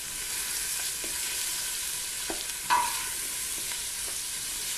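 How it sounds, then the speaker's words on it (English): Onions fry in a pot with a steady hiss of sizzling oil, punctuated by a few soft stirring knocks and one sharper scrape near the middle. "Okay, let's give it a stir."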